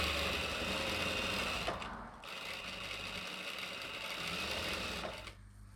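A sewing machine stitching a churidar, running in a steady fast mechanical whir close by, with a brief pause near two seconds and the motor winding down at the end.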